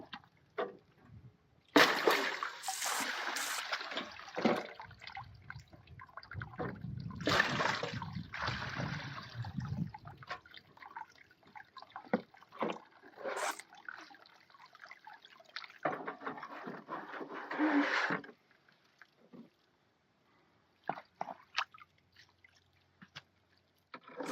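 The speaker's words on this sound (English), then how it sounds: "I'm just going to clean the sluice out here." Water rinsing out a gold-mining sluice on a new highbanker outdoors, with splashing, pouring and dripping that rise and fall in bursts before trailing off into scattered drips.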